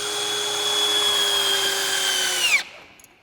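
A power drill drives self-tapping screws straight into wood for a mill wheel, its steady high whine running loud and close for about two and a half seconds before winding down abruptly to silence.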